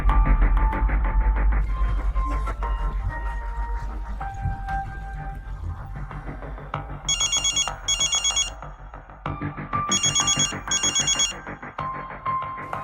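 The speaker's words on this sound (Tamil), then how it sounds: "ஆதவன் உடனே கேசவனுக்கு கால் செய்தார்" A telephone rings as a call is placed, with two separate bursts of bright, repeating trills heard over soft background music.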